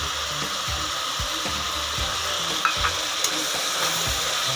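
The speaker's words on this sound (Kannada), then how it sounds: "ಈಗ ಅವರೆಕಾಯಿ ಹಾಕೋಣ." Field beans (avarekai) go into a hot frying pan and are stirred for vegetable pulao, giving a steady close sizzle with soft scraping stir strokes and a few light knocks throughout, no talking.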